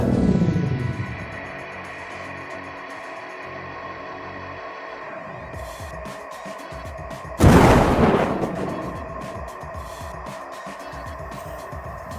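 A cartoon stun grenade goes off at a drone in an animated action scene, one sudden loud boom with a burst of noise that rings out and fades over a steady music bed.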